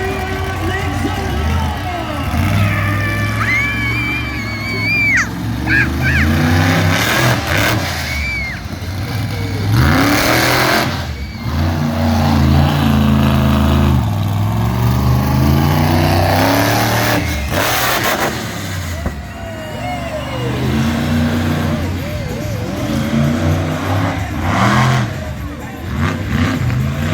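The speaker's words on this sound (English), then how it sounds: "He's making that truck work." A monster truck at a Nitro Tour show in Turlock, California, revs its engine in repeated loud surges that climb and fall in pitch, under a booming announcer's voice and arena noise.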